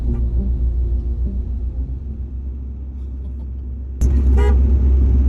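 A van's horn sounds near the end, honking at cows that block the road, over the steady low rumble of the idling van.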